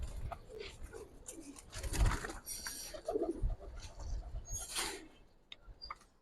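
Pigeons in a coop, soft throaty cooing and rustling at close range, with some shuffling and wing movement among the birds and no clear talk.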